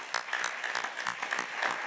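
An audience at a seminar's closing session applauds, a soft, steady patter of many hands clapping at a moderate distance without a break.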